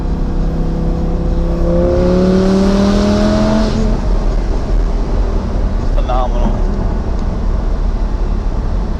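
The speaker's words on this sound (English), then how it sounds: "so you can hear what the exhaust sounds like with the top down, we're gonna just give you a little sample here." A Lamborghini Gallardo with a gated six-speed and the top down, its exhaust rising in a revving climb before easing off, loud and close, with a steady broadband rumble throughout.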